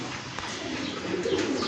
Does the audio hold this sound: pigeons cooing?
yes